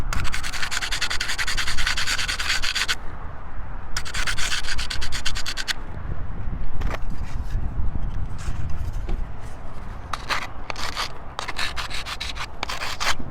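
A hand file scrapes back and forth across the metal of an FV200 tail wing in quick, rasping strokes. The bursts are close and steady, with a few brief pauses between runs.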